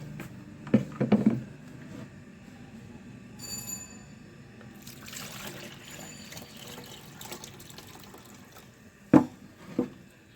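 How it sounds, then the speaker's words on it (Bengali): Potted plants get a generous watering after six dry days: soft splashing and trickling of water into soil, with a few louder knocks and clunks of containers, fairly quiet and close. "আজকে একটু ভালো করে জল দিয়ে দিই সবগুলো গাছে"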